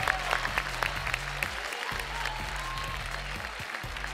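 Audience clapping steadily at a live televised singing competition concert, a dense continuous applause filling the room for several seconds, with a low rhythmic musical backing pulsing underneath.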